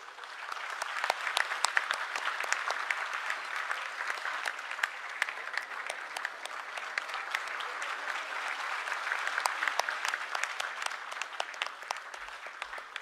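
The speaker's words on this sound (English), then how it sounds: "a big round of applause again to RTC, Aurora, and Apollo Hospital Institute" Sustained applause from a large audience at a university convocation for medical sciences graduates in Bhutan, a dense steady patter of many hands lasting throughout at an even, moderately loud level with no talking over it.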